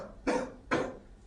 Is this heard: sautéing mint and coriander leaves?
no